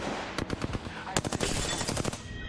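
Rapid automatic gunfire bursts from the Apex Legends battle royale game, dense clattering shots in quick succession with a brief pause before a second sustained volley, loud and close.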